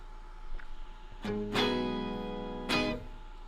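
A guitar played through an octave pedal in the series loop of an RJM PBC: a few plucked notes and strummed chords ring out thick and sustained, with a low doubled tone underneath.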